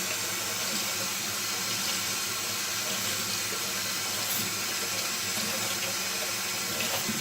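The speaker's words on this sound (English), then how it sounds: "So you'll just soak it in the water," Running tap water pours steadily into a sink while a makeup sponge soaks under the stream, a constant close hiss and splash with no talking.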